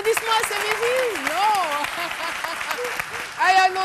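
A television studio audience applauds after music on a midday show, the clapping running beneath a voice speaking continuously in French and swelling slightly louder at the end.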